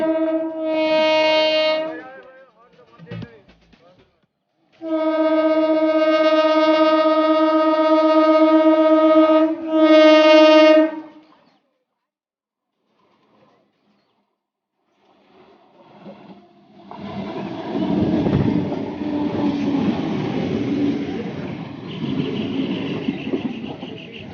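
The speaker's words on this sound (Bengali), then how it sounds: "ট্রেন আসছে ট্রেনে হর্ন দিচ্ছে এই যা ট্রেন এসে গেছে" A train arrives and passes nearby, its horn sounding in a long blare, a short break, then two more sustained blasts, before a loud rumbling roar of the wagons rolling past.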